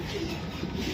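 A racing pigeon coos softly, a brief low murmuring call heard close against a quiet background.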